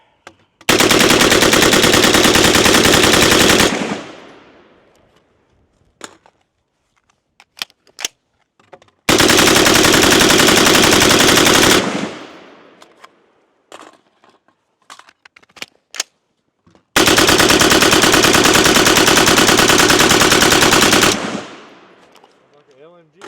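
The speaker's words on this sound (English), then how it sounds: "Yeah, somebody let off the LMG." An LWRC IC-A5 rifle fires three long, sustained full-auto bursts, each roughly three to four seconds of loud, dense gunfire, separated by quieter gaps holding faint clicks and handling noises.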